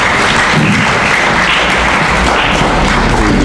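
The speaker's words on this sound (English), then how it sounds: "Let's give a round of applause" A crowd at a quiz event at a college in Brikama, Gambia, applauds loudly and continuously, a dense wash of clapping throughout.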